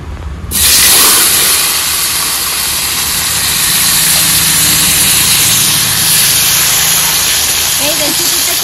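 Chopped tomato hits hot oil tempered with cumin and bay leaf and erupts into a loud, steady sizzle that holds for several seconds, with a voice talking briefly over it.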